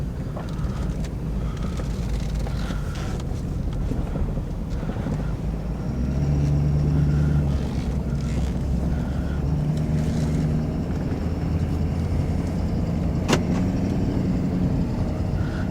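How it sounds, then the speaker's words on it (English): A pickup truck, a ute fitted with a 40.5-inch curved light bar, drives along a road, its steady engine drone and road rumble continuing throughout with wind noise on the microphone. "I love driving this truck."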